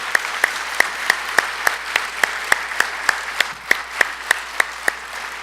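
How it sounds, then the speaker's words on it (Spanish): A church congregation at a conference claps together in a steady, even beat. The sharp, evenly spaced claps repeat about three to four times a second, moderately loud, with no voices over them. "¿Puede darle un aplauso al Señor?"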